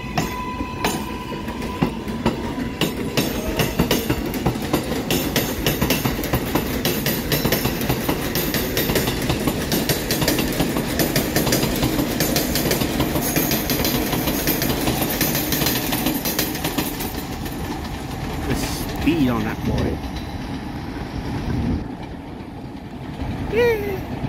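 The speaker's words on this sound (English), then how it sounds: "Train's coming from behind me." An NYC subway 7 train on the elevated Flushing Line passes close by, a sustained loud rumble with steady clickety-clack of wheels on rail, fading slightly near the end; a voice speaks briefly over it.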